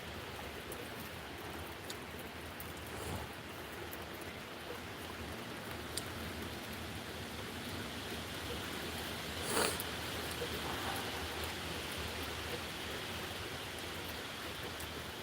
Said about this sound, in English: Can you guys hear the rain in the background?